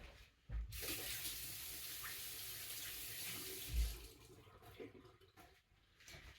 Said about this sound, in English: Let me just quickly wash my hands